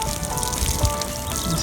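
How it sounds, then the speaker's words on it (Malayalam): Water poured onto newly planted fall flowers in garden soil, a steady close trickle and splash running throughout with no talk. "നമ്മൾ നന്നായിട്ട് വെള്ളം ഒഴിച്ച് കൊടുക്കുക."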